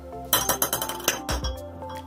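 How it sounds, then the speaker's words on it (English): Glass marbles clink and rattle together in a quick run of bright, ringing taps, close up and without talk, ending with a couple of heavier knocks. "Here are some glass marbles."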